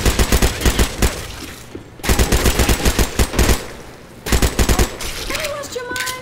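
Rapid automatic gunfire from a frag-round weapon in Left 4 Dead 2, loud, close bursts of evenly spaced shots separated by brief pauses, with a reload-like mechanical sound near the end.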